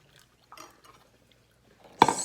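Boiling water is poured from a kettle into a glass holding borax, landing as a brief splashing gush after a few faint clinks and taps in a quiet room.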